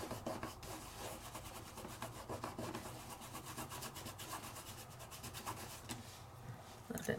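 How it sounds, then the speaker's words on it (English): A finger rubbing glitter onto sticky die-cut paper, a close, steady, faint scratchy rasp continuing for several seconds with a rhythmic back-and-forth texture. "And I rub it on in with my finger."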